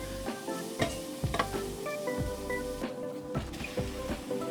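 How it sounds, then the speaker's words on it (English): Aromatics frying in a pan for miso ramen, with a steady sizzle under intermittent stirring and scraping, the clatter of a utensil against the pan recurring every second or so, close and fairly quiet. "Add in your aromatics and fry until soft."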